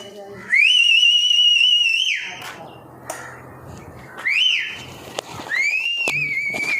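A man gives several loud, sharp whistles to call hunting dogs: a long rising one, then shorter bursts, with rustling and movement in between.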